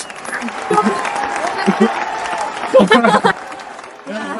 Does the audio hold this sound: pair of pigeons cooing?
no